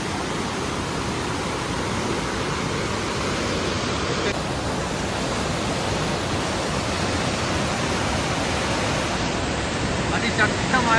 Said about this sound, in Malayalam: എന്തായാലും വെള്ളം പുറത്തൊഴിക്കുമുണ്ട്